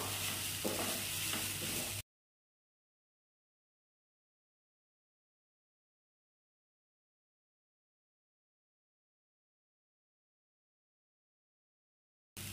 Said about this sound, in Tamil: மீதி இருக்க நெய்ல தேங்காவை போட்டு வறுத்துக்கலாம்.